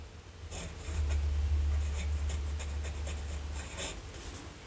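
A Lamy Studio fountain pen writes in Sheaffer Very Verde ink, giving faint, close scratchy nib strokes on paper in short bursts over a low background hum.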